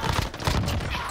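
A submachine gun fires in a video game, with a rapid unbroken stream of close, loud shots rattling through the whole brief moment.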